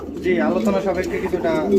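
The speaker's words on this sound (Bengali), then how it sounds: "এটা হচ্ছে মাদি কবুতর গোল্ডেন" A golden female pigeon gives soft, rolling coos close by, partly overlapped by a person talking.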